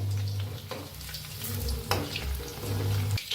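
Food fries in hot oil in a home kitchen, a close crackling sizzle with some stirring noise over a low background hum.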